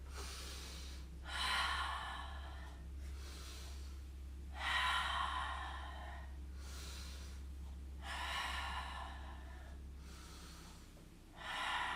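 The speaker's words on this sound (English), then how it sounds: "just take 3 or 4 breaths in your shape" Slow, deep breaths taken while holding a yoga pose, four long airy inhale and exhale cycles, close and soft over a low steady hum, no talk.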